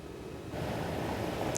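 Ocean waves from Hurricane Erin break on the Stonington Point shoreline in Connecticut, a steady broadband roar of surf mixed with wind noise that swells louder after the first half second.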